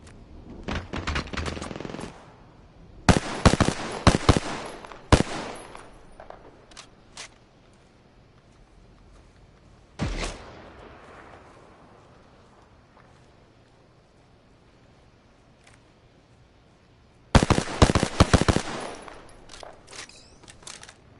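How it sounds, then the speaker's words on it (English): Smart-bullet gunfire in Apex Legends, with rapid bursts of sharp automatic shots in several separate volleys and quieter gaps between them, loud and close with no talk. "Bullets away. The smart bullets hit our foe."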